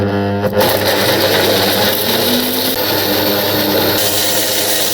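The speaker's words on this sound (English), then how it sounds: "now blitz it until you get a nice smooth paste of the spices" Loud, close blender whir begins after a brief moment and runs steadily to the end, grinding whole chilies and spices with a little water into a smooth paste for a Kerala fish curry.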